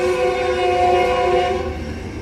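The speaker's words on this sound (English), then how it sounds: "Here comes Metrolink train" A Metrolink passenger train passes in the San Fernando Valley, its horn blaring loud and steady for about two seconds over the rumble of the rail cars, with no talking.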